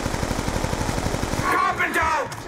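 Rapid automatic gunfire in Call of Duty Black Ops II Zombies, a dense burst of shots for over a second followed by game sounds and a voice speaking.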